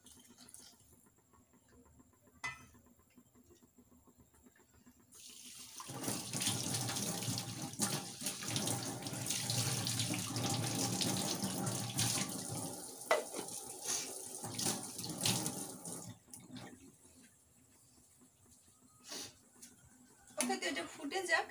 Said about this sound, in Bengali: আর একটু জলও অ্যাড করে দেবো, কারণ আলুগুলো সেদ্ধ হওয়ারও ব্যাপার আছে।